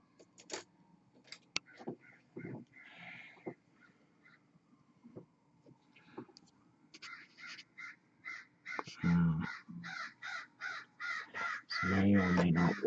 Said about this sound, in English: That sounds like there are crows just outside.